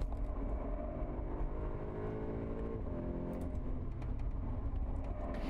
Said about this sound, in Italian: Nella prima curva della cosiddetta arena, la nostra S3 Sedan entra d'autorità, senza costringere ad allargare troppo all'esterno